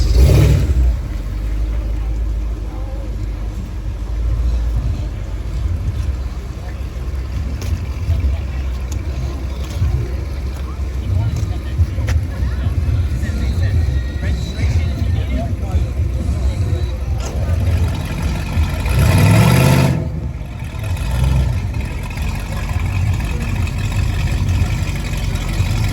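Ford Falcon with side exhaust pipes at an outdoor car show in heavy rain, its engine rumbling and revving steadily, with a louder surge near the end, mixed with crowd noise and nearby talk.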